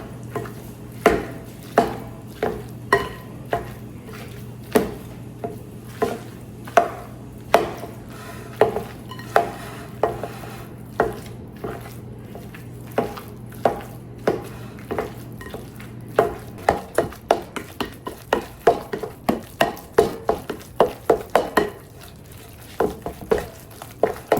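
Potatoes being mashed with six tablespoons of butter, a steady series of sharp thumps and squelches from a masher striking the pot, speeding up toward the end, close and clear with no talk.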